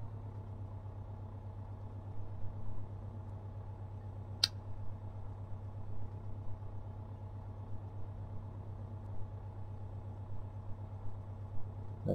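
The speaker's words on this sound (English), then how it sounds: "Slow running, lower the RPM to 600 to 800 RPM." Single aircraft piston engine in Flight Simulator X idling slowly at low RPM, a steady low drone holding even throughout with one brief click midway.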